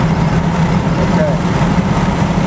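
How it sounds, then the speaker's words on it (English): Steady low engine drone of a 1964½ Ford Mustang cruising at highway speed, with road rumble and a voice talking over it. "You can hear the engine at this speed."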